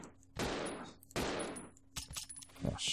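Gunfire in the video game Resident Evil 0: two loud, close bursts of shots under a second apart, followed by softer clicks and short thuds.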